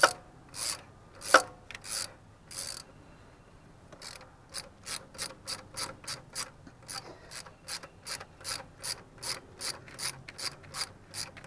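A ratchet tightens bolts on the cast throttle body of a 2004 Grand Prix, giving quick series of crisp clicking strokes with short pauses between runs, close up and without talk.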